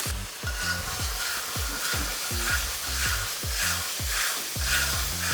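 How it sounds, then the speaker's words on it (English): Sweet and sour sauce caramelizing in a smoking-hot wok while fish is stir-fried for a crunchy sweet and sour dish, with a loud continuous sizzle broken by rhythmic scraping and tossing of the wok. "We're seriously stir frying now. Smoking hot wok, sauce goes straight in, and that will immediately caramelize on that high heat."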